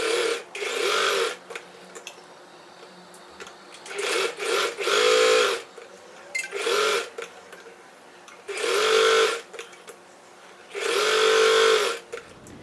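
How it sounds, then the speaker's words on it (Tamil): A sewing machine stitches quilting through fabric in five separate bursts of steady whirring, each lasting about one to two seconds, with short quiet gaps between them and no voices. "அதுக்கப்புறம் நான் உங்களுக்கு இது குவில்ட்டிங் பண்ணி காட்டுறேன் சரியா?"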